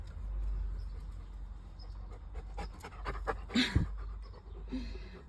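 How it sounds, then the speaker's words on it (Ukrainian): A dog pants in quick, steady breaths close by in a garden, alone apart from a brief small whimper near the end. "Айка, ти так дихаєш."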